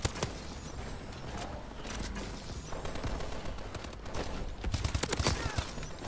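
Rapid bursts of gunfire from a Call of Duty Advanced Warfare match with an HBR rifle, crackling shots stacking into near-continuous volleys, punchy and close throughout.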